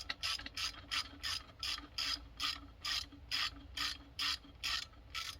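A ratchet wrench tightens a T50 Torx bolt on a Triumph Street Triple motorcycle, giving a steady, even series of about a dozen close clicking strokes with no talking.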